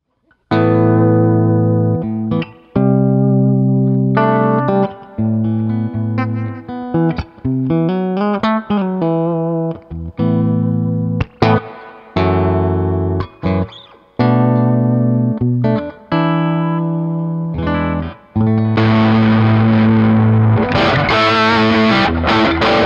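A distorted 1976 Gibson Firebird Bicentennial electric guitar rings out loud through an amp, strummed chords and picked notes with effects and reverb, no talking.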